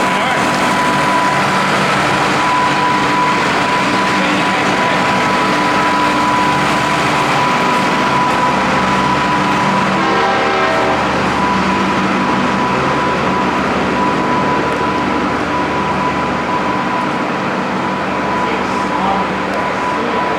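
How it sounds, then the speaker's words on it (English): A loud, steady mechanical rumble from a heritage railway carriage engine at an open day runs continuously, with a constant high tone sitting above the dense noise. "It's pretty loud for a carriage."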